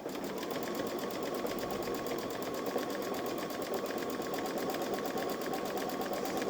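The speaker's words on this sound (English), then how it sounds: "it's going to stitch the outline for the cross" A Babylock Solaris 3 embroidery machine stitching a cross outline runs with a fast, continuous, even mechanical whir and needle clatter, steady throughout and heard alone at moderate level.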